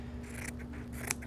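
Scissors snip through apron fabric in a quiet room, a short close cut or two with a brief sharp click near the end, no voices.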